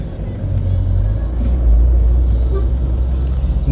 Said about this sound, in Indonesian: Ada big busnya.